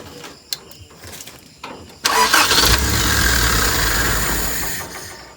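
A stuck engine is started after carburetor tuning, with a few clicks and cranks before it catches and settles into a loud, steady running drone.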